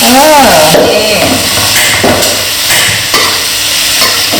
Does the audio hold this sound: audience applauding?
no